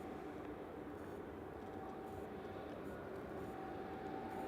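A KLM Boeing 737-800 comes in to land at Manchester Airport, its engines a steady broad roar heard from a distance and holding an even level throughout, with no voices.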